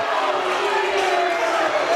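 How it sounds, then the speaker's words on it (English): A girls' sub-state basketball final crowd roars in disapproval after a travel call, a loud, sustained wall of voices with a droning tonal edge throughout. "the crowd's going to let him hear it as well"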